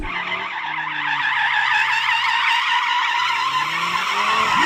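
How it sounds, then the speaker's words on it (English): An Audi RS3's tires squeal continuously in a long, loud drift, with a wavering high-pitched screech over a steady engine drone. "this is me drifting an RS3"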